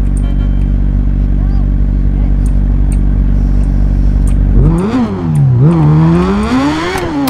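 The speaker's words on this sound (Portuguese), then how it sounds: "É louco, a moto berra demais." A steady low engine drone gives way to a Yamaha XJ6 motorcycle in GTA V revving up and down in loud, sweeping surges, close by.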